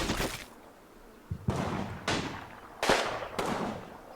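Machine gun fire in Combat Mission during a World War II mountain battle, a handful of sharp, separated reports with echoing tails, moderately distant.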